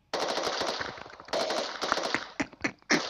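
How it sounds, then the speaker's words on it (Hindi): Automatic gunfire in the pixel shooter Pixel Combat: two long, close, loud rapid-fire bursts, then a few shorter scattered shots and a final burst, with brief silences between. "ठोकता हूँ इस गन से ठोकूंगा"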